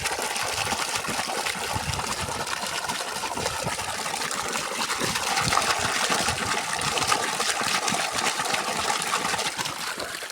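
A 7.5 HP pump pushing water through a 2-inch delivery pipe from 750 feet down, heard as a steady, loud rush of gushing water over a continuous mechanical hum, unchanging for the whole stretch with no talking.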